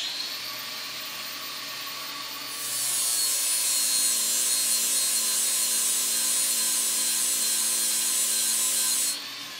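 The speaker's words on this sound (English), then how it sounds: "Hose is good, so let's grind it more." A power grinder runs steadily against a hydraulic hose, a loud, sustained whine and rasp that rises after a quieter start and cuts off near the end.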